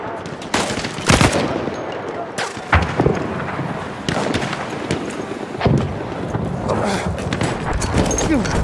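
Gunfire crackles through a Battlefield 1 capture-the-flag multiplayer match, with repeated sharp shots and rapid bursts at varying distances, while a player talks over the fighting.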